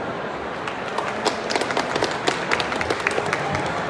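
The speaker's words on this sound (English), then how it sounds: "Applause, please." Audience applause fills a press conference hall at the ITB 2023 international tourism fair in Berlin, a steady spatter of claps throughout with a faint voice underneath.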